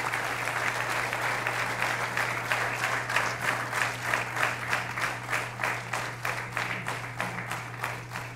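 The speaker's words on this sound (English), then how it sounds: "Please give a big round of applause for all of these guys." An audience at a design contest finals ceremony applauds at length, dense clapping that gradually thins into a more rhythmic, pulsing beat, with a steady low hum beneath.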